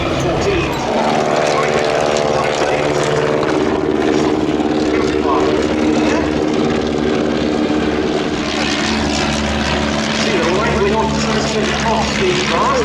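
A replica World War I propeller aircraft takes off from grass, its engine droning loudly and steadily with a buzzing propeller tone, while a voice talks over it.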